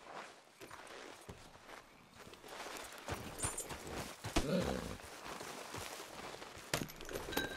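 Horse hooves clopping along at a walk in the Red Dead Redemption 2 video game, a steady soft footfall rhythm under game ambience with brief louder bursts.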